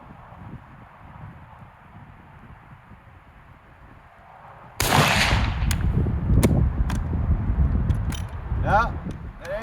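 A steel-case Barnaul .308 round fires from an FN49 rifle with a sudden loud report, followed by several sharp metallic clanks and clicks as the action cycles, with someone talking throughout.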